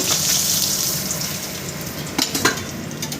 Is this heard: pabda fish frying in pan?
yes